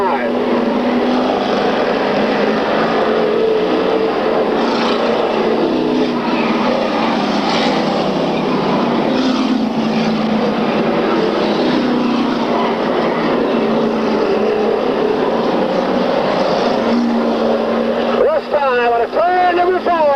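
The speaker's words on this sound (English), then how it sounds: "Dave Mullen's your race leader down the back straightaway." Race cars roar down the back straightaway at a 1995 oval race, a steady loud engine drone filling the air with a track announcer talking over it throughout.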